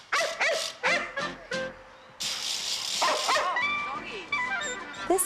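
An irritable little dog that is aggressive toward other dogs lets out a rapid series of sharp, high yips, then a drawn-out whining whimper, loud and close throughout.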